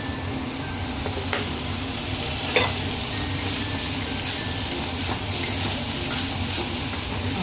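Okra frying in oil in a pan, a steady dense sizzle and crackle throughout with occasional faint utensil taps, close and fairly loud, no voices.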